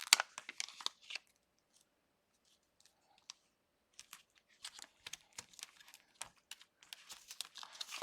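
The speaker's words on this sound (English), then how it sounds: "Peel it off." Stamps peeled one by one off a backing sheet during stamp-set assembly, giving soft crinkling and small tearing crackles in short close bursts, with a quiet pause in the middle.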